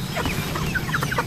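Rhode Island Red chickens cluck close by in a short burst of overlapping calls while being fed.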